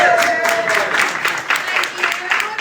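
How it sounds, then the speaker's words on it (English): A community meeting audience in Knoxville claps, a dense patter of many hands that swells and ebbs, with a voice speaking over the start. "you guys can clap"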